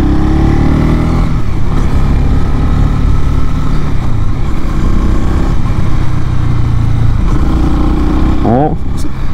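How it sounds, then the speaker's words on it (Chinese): A Honda CB300R single-cylinder motorcycle rides in a higher gear, its engine thrumming steadily up close beneath wind rumble while a rider talks over it. "那我等一下试着把档位打到高一点来试试看，我们顺顺骑到底会是怎么样的反应。"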